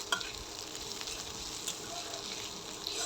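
Bitter gourd and potato frying in a pan, stirred with a gentle scrape over a steady, close hiss of oil and sizzle that holds even throughout.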